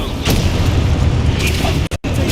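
A Confringo spell blast in a Harry Potter video game, heard as a loud, continuous low booming rumble filling the whole moment, broken by a very brief cut near the end.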